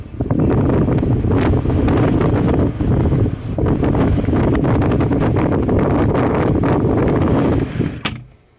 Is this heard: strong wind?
yes